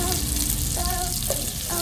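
Garlic sautés in a hot pan, giving a steady, close sizzle with crackling spatter throughout and no talking.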